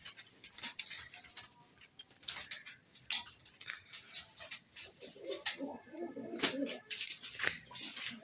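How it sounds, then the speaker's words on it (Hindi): Pigeons coo in low, throaty bursts, mixed with metallic clinks and rattles nearby. "कबूतरों को ताला लगा देते हैं।"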